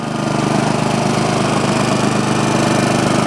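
A Honda HRX217 lawn mower with an overhead-cam engine runs steadily at close range outdoors in cool weather, a loud, even drone with no pauses or talk.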